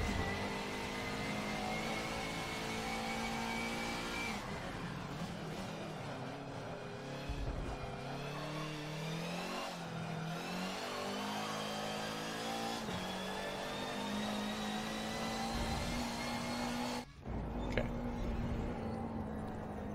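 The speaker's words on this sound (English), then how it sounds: "I'm kind of just lifting off and then completely getting back on the throttle right now" A racing video game car engine revs hard as the throttle is lifted and reapplied, its tone sliding down and climbing back in repeated cycles, loud and continuous with a brief cut near the end.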